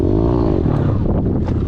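A pit bike engine on a dirt track revs hard and loud up close for a wheelie, a buzzing, rising drone that holds through the short burst with faint rattles.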